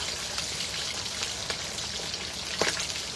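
Cooking oil spatters hard in a frying pan, a dense, close, continuous crackle with sharper pops now and then and no talking.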